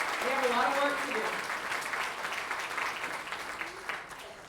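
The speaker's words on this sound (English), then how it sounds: "We can give a round of applause to all of the individuals that were elected and re-elected to these positions." An audience at a Fort Bend County installation ceremony for newly elected officials claps in a sustained burst of applause that slowly fades, with a voice speaking briefly over it.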